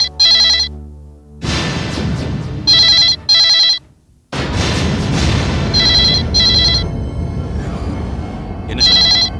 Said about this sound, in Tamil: come on, pick up the phone dear